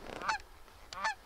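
Two short honking calls from lesser geese ring out about a second apart, nasal and clear, against a quiet outdoor background in North Dakota.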